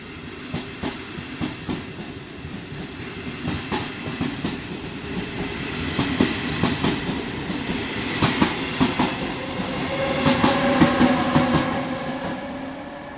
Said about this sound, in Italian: Treno in transito al binario 3, allontanarsi dalla linea gialla.